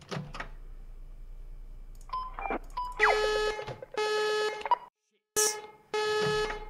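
Electronic alarm beeps in Five Nights at Freddy's, sounding in repeated loud bursts of steady multi-tone beeping with short gaps between them, after softer chirps, with no talk over them.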